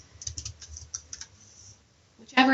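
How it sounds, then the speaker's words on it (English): Typing on a computer keyboard in an office: a run of quick, light key clicks in irregular bursts, fairly close and quiet, ending in a louder clatter. "Just start typing in their name."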